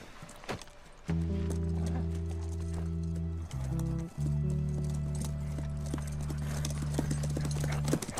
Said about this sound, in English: Just a nice horse ride in the forest